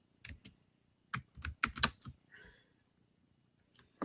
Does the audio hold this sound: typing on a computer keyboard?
yes